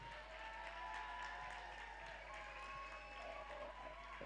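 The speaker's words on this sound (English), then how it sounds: "Makofi kwangu tafadhali." Applause from a crowd at a Drunken Lectures event in Nairobi, a steady wash of clapping held at moderate distance and fairly faint, with no talk over it.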